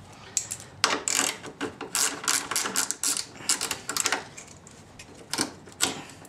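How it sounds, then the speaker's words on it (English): A ratchet removes a bolt from a 2004 VW Passat with a 1.8L turbo engine, giving bursts of rapid, close clicking in uneven strokes with short pauses between them and no talk. "We're also gonna remove this bolt that connects the windshield washer fluid reservoir"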